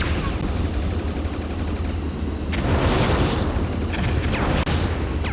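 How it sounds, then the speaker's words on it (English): Explosions and enemy fire in the Sega Saturn game Independence Day: dense, continuous booming and crackling gunfire layered over a steady high electronic tone, with a few sharper bursts near the end. "There's a lot of explosions, enemy fire, your wingman feeding you instructions."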